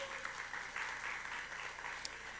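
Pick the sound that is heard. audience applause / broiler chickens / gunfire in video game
audience applause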